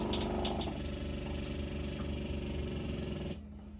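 A SEAFLO water pump with an accumulator tank hums steadily with a buzzing motor tone, then cuts off near the end, leaving a quieter tail; no one talks.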